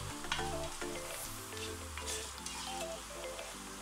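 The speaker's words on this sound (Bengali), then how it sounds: "এবার পেঁয়াজগুলোকে একটু লালচে করে ভেজে নিচ্ছি" Chopped onions, about a cup, sizzle and fry in a pot toward a reddish-brown, birista-like color for a mutton pardah biryani. The frying crackles steadily and close up, with no talk, while a low background hum runs underneath.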